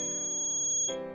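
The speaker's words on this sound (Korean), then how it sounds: "삐 소리가 나서 문을 열었다" An Arduino home security alarm buzzer sounds one loud, steady electronic tone lasting about a second, its pitch shifting slightly just before it cuts off.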